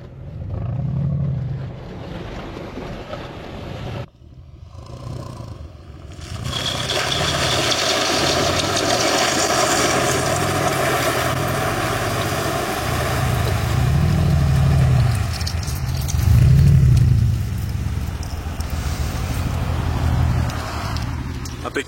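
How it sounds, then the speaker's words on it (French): A car's V8 engine drives with the windows down on the Smugglers' Path in Andorra, a deep rumble that swells and fades over a steady wash of road and wind noise, loud and close. "on entend bien le bruit du V8"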